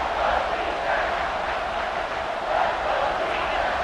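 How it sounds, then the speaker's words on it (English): Crowd cheering for the defense on third down at a California versus USC college football game, a loud, sustained roar that swells and dips slightly, filling the stadium without distinct talking. "Decibels rising as the crowd gets behind this defense on 3rd down"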